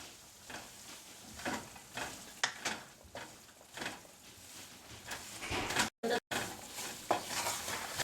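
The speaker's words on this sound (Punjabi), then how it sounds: "ਹੁਣ ਇਸ ਆਟੇ ਅਤੇ ਘਿਓ ਦੇ ਮਿਸ਼ਰਣ ਨੂੰ ਤੁਸੀਂ ਮੱਧਮ ਹੀਟ ਤੇ ਹਿਲਾਉਂਦੇ ਰਹਿਣਾ ਹੈ" Flour and ghee mixture being stirred in a pan over medium heat, a spoon scraping in repeated strokes with a soft sizzle underneath, close and fairly quiet, with two brief dropouts near the end.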